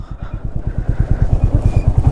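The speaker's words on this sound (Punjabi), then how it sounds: "ਪਾਰਕਿੰਗ ਦੇ ਵਿੱਚ ਮੋਟਰਸਾਈਕਲ ਲਾ ਦਈਏ ਸੇਫ ਥਾਂ ਤੇ" A motorcycle engine idles up close with a fast, steady putt-putt throb, loud and continuous.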